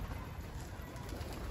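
Pigeons coo softly at a distance as they return to a rooftop, a low steady murmur of calls over constant background noise.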